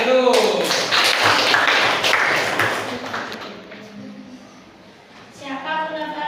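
Classroom audience clapping: a burst of applause with sharp hand claps rises at the start, holds for about three seconds, then tails off, followed by a teacher's voice speaking.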